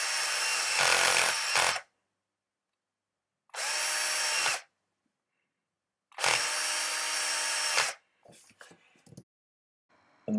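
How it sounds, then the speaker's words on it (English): A power drill bores holes in wood in three loud, close bursts separated by silences, followed by a few brief clattering handling noises. "I've just got to drill 3 holes on the outside and countersink them for screws."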